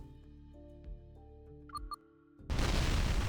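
Soft video game music and electronic tones play, then a sudden loud in-game explosion bursts in and roars on to the end.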